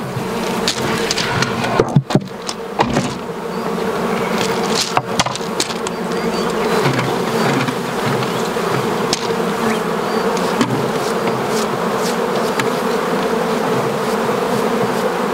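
Honey bees from an opened hive, split four weeks earlier, buzz loudly and continuously in a dense swarm, with a few faint knocks from the hive frames.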